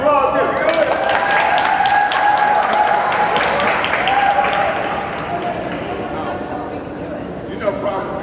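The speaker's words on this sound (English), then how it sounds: "Big round of applause." A crowd at a Black History Month celebration in Warren, Michigan breaks into applause and cheering, loud sustained clapping with voices and whoops mixed in, easing slightly in the second half.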